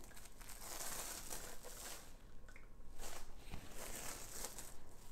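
Wrapping is peeled off a cake, giving soft continuous crinkling and rustling close by at low volume, with small crackles scattered throughout.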